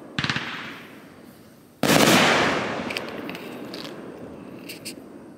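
Fireworks explode outdoors at a ballpark: a crackling burst, then a loud boom that rolls and fades, followed by distant pops and crackles.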